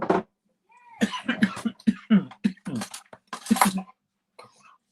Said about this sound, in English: just a tickly cough